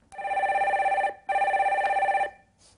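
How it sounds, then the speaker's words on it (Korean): A telephone bell rings for an incoming call on a live broadcast, two electronic trill bursts of about one second each with a short gap, loud and close, with no talk over it. "다음 전화 빨리 받아볼게요"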